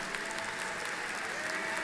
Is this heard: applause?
yes